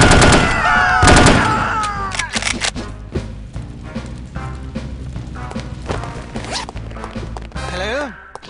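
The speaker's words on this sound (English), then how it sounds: "bullets are coming this way." Gunfire in the shooter No One Lives Forever, rapid bursts of shots cracking at close range amid clattering game effects, with a voice speaking over parts of it.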